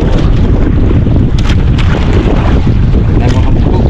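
Strong wind at sea buffets a fishing boat, a loud, constant roar of gusts hitting the microphone with rushing air and water noise, steady from start to end.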